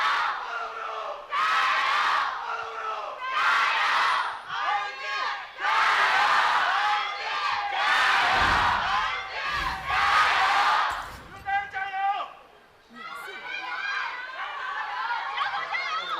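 Packed arena crowd at an LPL Spring Split esports match between Rogue Warriors and RNG, cheering and chanting in loud, rhythmic waves throughout, with shouting voices close by.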